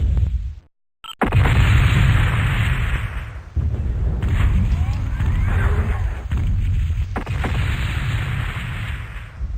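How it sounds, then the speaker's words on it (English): A mech blows apart in the MechWarrior 2 NetMech game with a loud, dense blast that drops out for an instant and then returns as a long, rumbling roar of rolling, crackling explosions, close and sustained. "Enemy mech destroyed."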